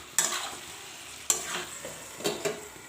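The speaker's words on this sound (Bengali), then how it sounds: "এরপর এই সব মশলা এবং মাংসটাকে ভালো করে কষে নিচ্ছি।" Chicken pieces and spices frying in a pan for a Bengali red chicken curry, a low sizzle with three distinct spatula strokes scraping the pan at about one-second intervals, close and unaccompanied by voices.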